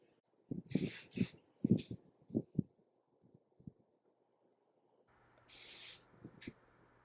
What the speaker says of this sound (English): And then just go back and hairspray.